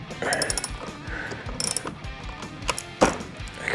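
Ratchet wrench loosening a bolt on the battery cable of a solar power station kill switch, a close series of quick clicking pawl ratchets in short bursts, with some faint speech.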